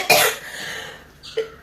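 In a kitchen, someone coughs from the sharp smell of frying chutney: a hard, close cough, then a second shorter one after a pause.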